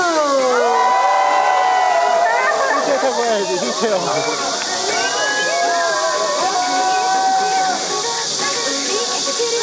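Fans at a Weki Meki fan meeting shriek and cheer in high, wavering voices over a constant broad wash of crowd noise, loud and close, sustained for about ten seconds.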